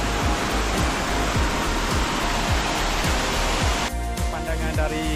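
Durian Perangin waterfall in Langkawi, Malaysia, a loud continuous rushing roar of falling water close by, with a rhythmic low thumping under it and no voices.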